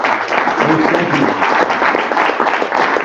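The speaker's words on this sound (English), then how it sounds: "let's give them one more round of applause" A conference audience at a wildlife federation event gives a sustained round of applause, dense, even clapping from many hands filling the room for a few seconds.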